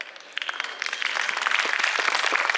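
Applause from an audience at a university film festival in Haryana, a dense wash of clapping that starts softer and swells steadily louder over a couple of seconds, with no voices standing out.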